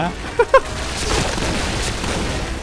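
Gunfire in PUBG, two sharp close shots in quick succession followed by a dense spray of more distant rattling bursts and booms, with a player talking over the action.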